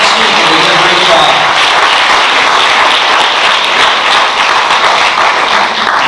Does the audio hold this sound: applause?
yes